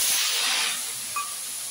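Spices hit hot oil in a kadai, giving a loud, close hiss that fades and settles within a couple of seconds.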